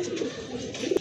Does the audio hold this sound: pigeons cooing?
yes